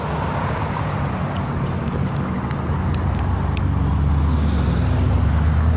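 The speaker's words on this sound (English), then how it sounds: "now traffic's slowing down just a tad" Street traffic rolling past on a hot day, a steady loud roadway roar with low engine rumble that builds slightly toward the end, no voices.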